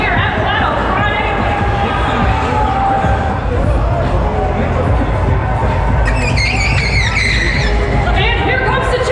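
Motorbikes race in a relay at Flat Out Friday during the One Moto Show, engines roaring and whining continuously beneath a cheering crowd and an announcer talking loudly.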